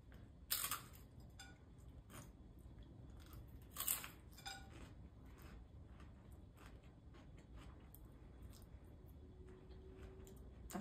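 Beef tongue tostada taco with cheese and spicy salsa being chewed up close, a couple of crisp crunchy bites standing out over soft steady mastication, with no talking.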